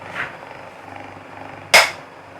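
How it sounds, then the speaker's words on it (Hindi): One sharp metallic hammer tap on an air cooler motor rings out over the motor's steady low hum. A softer knock comes earlier. "एक हथौड़ी मारने पे कैसी आवाज़ होगी"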